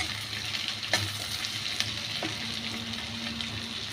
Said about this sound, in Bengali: আলুর সাথে আদা কুচি রসুন কুচিটা বেশ ভালো করে সুন্দর করে ভাজবো।